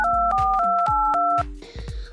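Phone keypad tones beep in a quick run of about six short, clear dual-tone presses while a phone number is entered and saved, followed by a softer chime, with no talking.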